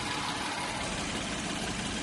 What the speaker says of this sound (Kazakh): Мотор жақсы істеп тұр.